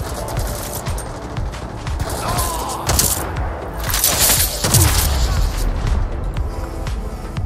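Rapid gunfire from the online shooter game Battle Teams 2, dense overlapping bursts and bangs filling the whole stretch, loud and continuous with a few heavier thumps, voices faintly mixed in.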